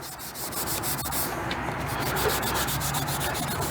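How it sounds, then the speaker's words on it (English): A Brillo pad scrubbing clay target debris off the track of a Lincoln Infinity Series trap machine, a steady close rasping rub that continues without pause. "A light scrub will usually remove most of the target debris."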